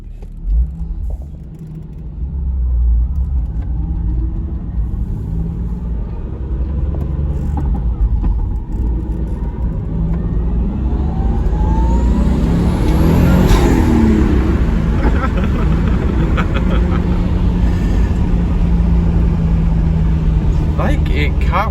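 A stock JDM Toyota Supra with twin turbos and a six-speed manual drives and accelerates, its engine rumbling steadily and building to a stronger pull, heard from inside the car with occasional talk over it.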